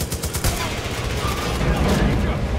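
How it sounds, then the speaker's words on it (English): Heavy gunfire from big guns in the Far Cry 5 video game, a dense and continuous barrage of loud rapid shots that lasts the whole moment with no pause. "Guys with the big guns need to be dealt with big guns."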